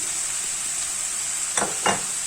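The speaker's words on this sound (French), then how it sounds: "Hop, on mélange le tout." Spiced filling of ras el-hanout, paprika, black pepper and hot chili gets stirred in a pan over a steady sizzle, with two short scraping strokes near the end.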